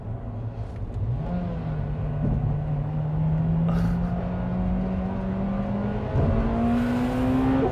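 A Honda Civic Type R EP3 engine drops and climbs in pitch through gear changes with rev-matching blips, the interior drone rising smoothly under load and jumping on each downshift.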